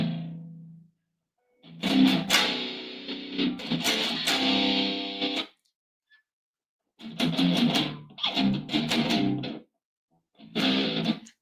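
Bursts of heavily distorted electric guitar, thick and buzzy, played in several separate phrases with short silences between them.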